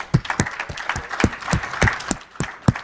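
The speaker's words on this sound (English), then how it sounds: "Big round of applause." An audience at a sports finance conference session clapping, a modest round of irregular, fairly close hand claps lasting a few seconds.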